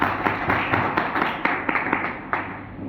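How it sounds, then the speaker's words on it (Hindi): Applause from a business-plan seminar audience, a loose patter of claps from a small group with several sharper individual claps standing out, fading toward the end. "इनको एक बार जोरदार तालियां"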